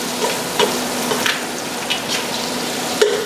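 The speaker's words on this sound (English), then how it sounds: "I want the Old Bay to infuse with the shells and start roasting those Old Bay spices off" Steady sizzling of shells and Old Bay spices roasting in a hot pan, an even frying hiss with a few soft clicks and pops of the shells shifting, no voice.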